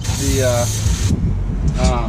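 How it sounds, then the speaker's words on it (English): Brake cleaner hisses from an aerosol can onto a brake rotor on a 2013 Dodge Ram 1500 4x4, a close, continuous spray through most of the moment, with someone talking over it. "we're just going to go ahead and spray off that rotor"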